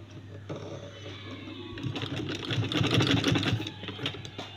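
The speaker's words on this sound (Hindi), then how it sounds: "फिर फाइनल सिलाई जो है लास्ट सिलाई जो है इसकी लगाएंगे" A sewing machine runs the final seam on a balloon-style elastic sleeve, with a steady close motor hum and needle chatter that swells midway, and a voice is faintly present behind it.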